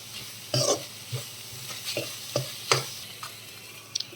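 Ginger-garlic paste fries in a pan for a broad bean (gokarakaya) curry: a faint sizzle under a series of sharp, irregular stirring scrapes, about a dozen strokes spaced roughly half a second apart, with no voices.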